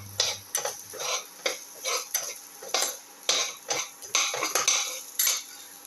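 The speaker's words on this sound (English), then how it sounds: "Keep on sauteing" Utensil repeatedly scraping and stirring onion, ginger and tomato in a pan, sharp metallic clinks in an irregular rhythm over a faint sizzle, close up and with no voices.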